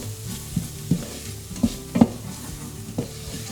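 Spices for a vegan green bean curry are toasted and stirred in a pan, a soft sizzle broken by several distinct spoon knocks and scrapes spaced irregularly, close and fairly clear.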